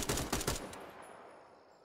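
M4 rifle fire in the military shooter Incursion Red River: a quick burst of several sharp shots in the first half, then a fading tail with no talking.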